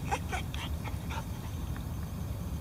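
An American Staffordshire terrier and an Amstaff mix whimper and yip in a few short, high, thin bursts early on during a walk. Steady low outdoor rumble runs underneath throughout.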